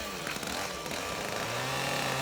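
A chainsaw engine drones loudly and continuously, its pitch wavering slightly as it runs.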